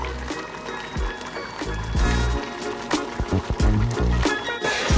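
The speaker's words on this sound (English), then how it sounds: "Listen to this bubbling." Thick homemade chili with cumin and balsamic vinegar bubbles in a pot, giving a close, loud run of wet pops and gloopy plops that sometimes stick to the bottom.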